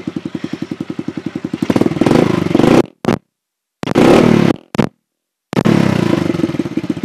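A 110cc dirt bike with its exhaust silencer removed idles with a rapid loud putter, then is blipped in several sharp, raw revs separated by brief cutoffs, recorded up close.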